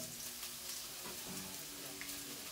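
Onion sizzling in a tablespoon and a half of oil in a smoking-hot wok, a dense, even hiss with faint popping, fairly quiet and continuous.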